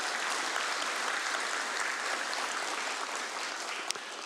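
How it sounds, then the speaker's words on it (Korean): A church congregation at a Sunday worship service applauds steadily, a dense, sustained wash of clapping that holds at an even level and stays close throughout. "신랑이요. 뜨거운 박수로."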